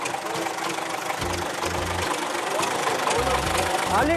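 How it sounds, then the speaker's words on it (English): A tractor engine idles steadily and close by with a knocking, chugging rhythm throughout, while people talk over it. "do you think I've got any chance of getting a ride on this tractor?"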